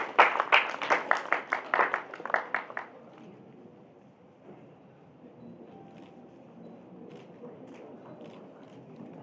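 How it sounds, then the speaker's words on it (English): Applause from an audience at an inauguration ceremony, a burst of loud, rapid clapping for the first few seconds that abruptly drops away into quiet room tone with faint murmurs. "A big round of applause, ladies and gentlemen."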